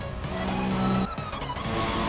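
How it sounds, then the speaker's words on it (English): A Formula 1 race car engine in the video game F1 2016 revs before the race start, a loud, dense, close mechanical drone with rising and falling pitch and short dips in level. "We need to keep the engine cool though, so don't go too high with the revs."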